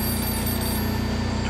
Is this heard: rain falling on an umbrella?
no